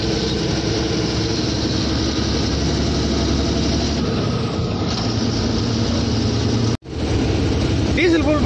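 An Indian truck's diesel engine runs as the truck pulls away from Chengam, a loud, steady low rumble that drops out briefly for a moment before resuming.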